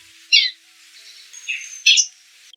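A Masked Cardinal calling in the wild, giving three sharp, high chips spaced a beat apart with a thin whistled note between, close and clear against near silence.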